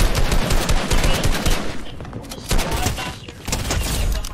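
Rapid assault rifle fire in Fortnite, with dense, loud bursts of shots repeating across the moment and brief gaps between volleys.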